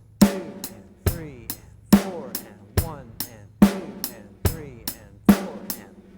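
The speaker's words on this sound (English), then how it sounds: "Snare drum is what we call the backbeat" A drum kit plays a steady rock groove, kick and sharp snare cracks alternating evenly, the snare landing on every backbeat.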